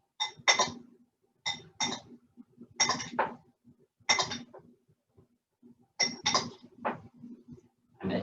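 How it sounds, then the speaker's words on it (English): A pot gets stirred while eggs Benedict cook, with clustered bursts of scraping and clinking against the pot, separated by short pauses, close and fairly clear. "Give that a little stir."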